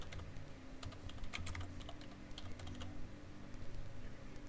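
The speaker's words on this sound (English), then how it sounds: "Type Gerard Foster." Steady typing on a computer keyboard, quick irregular key clicks close by and faint, with no voices.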